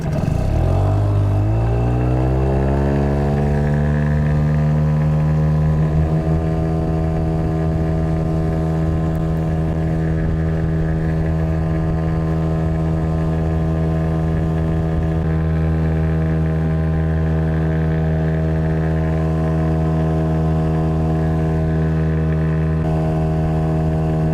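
Outboard motor on a Flagman 420 catamaran out on waves, rising in pitch as it accelerates over the first few seconds, then holding a steady, loud, harmonic drone.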